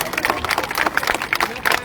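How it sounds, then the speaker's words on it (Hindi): A crowd at a political rally in the Chandigarh Lok Sabha constituency, with two politicians, claps in a dense, steady patter of many hands, close and lively, with voices mixed in. "एक बार ताली बजाओ उस नरेंद्र मोदी"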